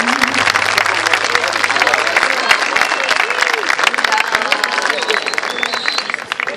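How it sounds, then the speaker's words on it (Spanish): A large audience at a beauty pageant applauds sixteen contestants, loud dense clapping and crowd noise throughout, with a voice and a brief musical tone heard early on. "Fuerte, fuerte el aplauso para ellas."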